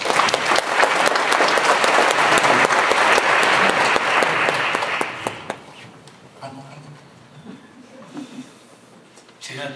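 Audience applause welcoming a pastor emeritus at a Korean church event, a dense, loud burst of clapping for about five seconds that then fades away into quieter room noise.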